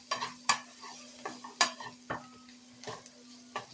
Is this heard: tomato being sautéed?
yes